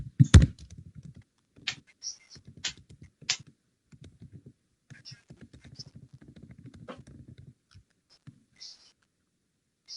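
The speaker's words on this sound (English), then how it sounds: "Oh, I was going to type in my email." Someone types an email address on a computer keyboard, with irregular bursts of close, crisp key clicks and taps separated by short pauses.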